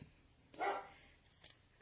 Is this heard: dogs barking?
yes